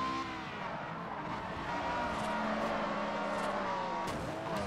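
A tuned classic Ferrari races in Forza Horizon, its engine droning loud and continuous with rising and falling pitch as it accelerates, no voices over it.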